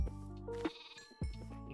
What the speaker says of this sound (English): I like how we got all white sheep